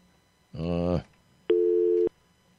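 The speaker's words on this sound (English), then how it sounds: "I'm dialing out, but it's not doing very good." An AT&T phone line gives two separate electronic tones, the first a short buzzy burst, the second a steady pure beep about half a second long, heard close and alone.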